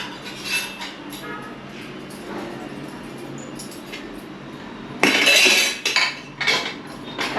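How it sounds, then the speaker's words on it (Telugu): Metal cookware clatters in a home kitchen: a ladle slips and clanks against a pot with a sharp loud burst after a stretch of quieter scraping and clinks, followed by a few more knocks. "కంగారులో గరిటె జారిపోయింది"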